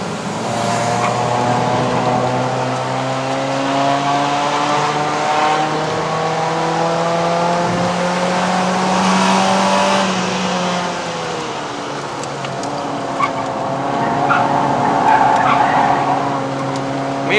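A 2010 Mazda 3 BL Sport with a 2.0L engine, not remapped, revs hard through the gears toward redline on a mountain road in Malaysia. The loud rising engine tone is heard from inside the car, with pitch climbing and dropping at each shift.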